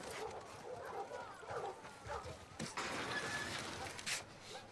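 A dog in The Last of Us Part II barks, yips and whimpers in short bursts through faint game ambience, with people talking over parts of it.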